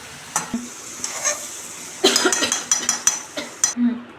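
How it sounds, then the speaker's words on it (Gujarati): Potato samosa filling with garam masala is stirred and mixed in a pan, with irregular scrapes and sharp utensil clinks that grow busier and louder in the second half over a faint sizzle. "પછી બધું મિક્સ કરી દેવાનું"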